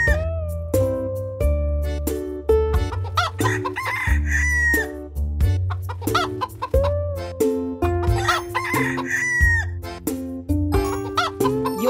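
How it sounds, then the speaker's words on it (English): Cartoonish hens cluck and a rooster crows in a farm video game, layered over a bouncy, tonal game soundtrack; the calls recur in short bursts across the clip, loud and close, with no talking. "our hens are hungry"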